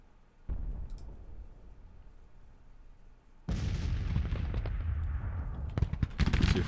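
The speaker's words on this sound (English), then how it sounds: "Well, we've got some artillery going here." Artillery fire rumbles across a Civil War battlefield in a strategy game: a low boom around half a second, then a much louder, sustained barrage of blasts and rolling thunder-like reports building toward the end, with no talking.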